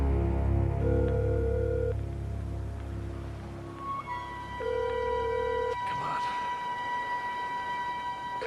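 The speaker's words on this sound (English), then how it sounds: "Come on, pick up the phone." A telephone rings with steady tonal electronic bursts, repeating in several tones over a low background hum, followed by a sharp clatter partway through.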